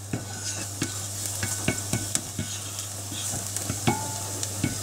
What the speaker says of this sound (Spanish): Una vez que el aceite ha tomado calor, echamos nuestro ajo.